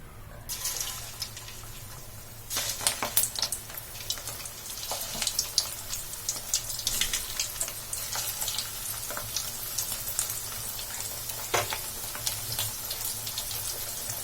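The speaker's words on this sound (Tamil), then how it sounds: "இப்போ நம்ம ரெடி பண்ணி வச்சிருந்த இந்த வெங்காய போண்டா வந்து இதுல போட்டுடலாம்." Battered onion bonda dropped into hot oil on a medium flame sizzles steadily and continuously, with bubbling crackle rising after the first couple of seconds and staying close and moderately loud throughout, no talking.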